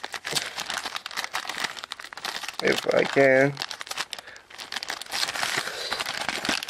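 Close, loud crinkling and tearing of plastic packaging, continuous throughout, with a person briefly speaking in the middle.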